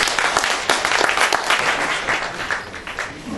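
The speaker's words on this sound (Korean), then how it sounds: "여러분 다시 한번 큰 박수로 맞이해 주시기 바랍니다" Audience applause at a Korean brand award ceremony, a dense steady wash of many hands clapping that fills the hall, slowly easing toward the end.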